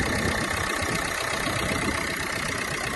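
Renault Megane 2013 engine idling, sounding steady and continuous with a dense, even hum close to the microphone and no voices.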